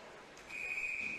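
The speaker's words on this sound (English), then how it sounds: "And a whistle." A referee's whistle at an ice hockey game, one sustained shrill blast over the low rumble of the arena crowd.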